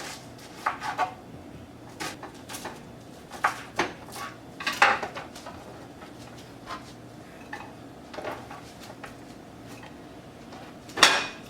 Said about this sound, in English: I cut my onions into pieces,